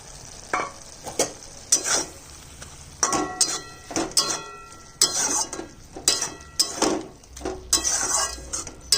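Shrimp sizzle and fry in a pan as a spoon stirs them, scraping and clinking against the metal in irregular strokes over a steady hiss, close up and with no talking.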